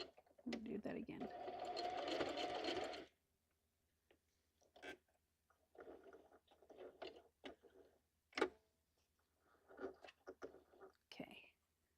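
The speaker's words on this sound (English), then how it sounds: "now we're going to take one stitch forward, and then we're going to back stitch" Sewing machine stitching paper pages while assembling a junk journal: a steady motor burst of about three seconds, then a few short separate stitches and clicks, fairly close.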